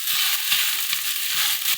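Kharkol leaves frying in a wok before being ground on a grinding stone, giving a steady loud sizzle with soft periodic thumps of stirring, alone without talk.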